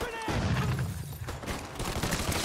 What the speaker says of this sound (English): I know how to throw nades too, buddy.